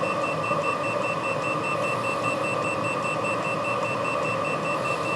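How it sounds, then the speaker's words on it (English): A cheap carbon monoxide tester beeps in a rapid, steady run of short, high electronic tones over a constant mechanical hum from a diesel heater. "one cheap carbon monoxide tester. Oh, that's a lot of beeping."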